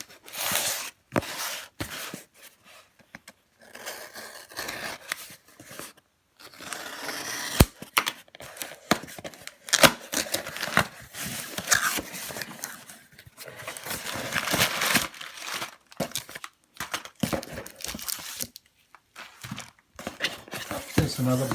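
A cardboard shipping box holding PSA graded trading cards is cut open, rough scraping, slicing and tearing bursts with irregular pauses, close and fairly loud, with some speech between.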